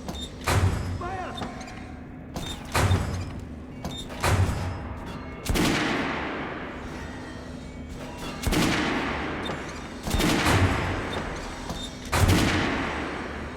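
Gunfire in the shooter game Metro Last Light Redux: several sharp, loud bursts of shots spaced a second or two apart, each trailing off into a rumbling echo, with a voice talking in between.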